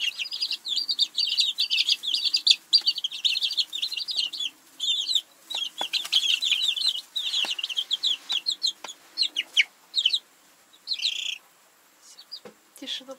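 Young chicks cheep in a poultry yard, a dense stream of high peeping calls close by that grows sparser toward the end.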